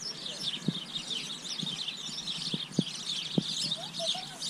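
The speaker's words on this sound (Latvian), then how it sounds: "Paskatīties, pilns koks ar maziem putniņiem." Small birds chirp and twitter continuously from a tree at a zoo, a busy high chorus, while soft low knocks or footsteps sound intermittently underneath.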